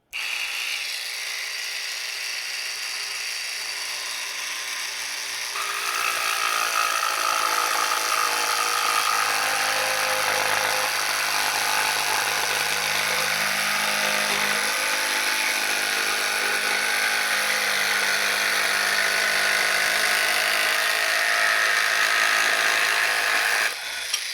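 A compact mini jig saw, a detail scroll saw, cuts steadily along a straight edge held by a light Irwin clamp, a dense buzzing rasp that runs continuously and grows louder after the first few seconds, close up with no talking.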